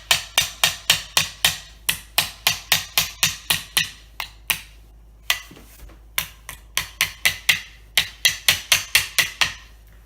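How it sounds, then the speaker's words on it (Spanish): A small hammer taps nails outward in an old wooden chest under restoration. Sharp, close metallic knocks come in quick rhythmic runs of about ten, with a few brief pauses between groups. No voices are heard. "lo que estoy haciendo es retrayéndolos hacia el exterior con un pequeño martillo"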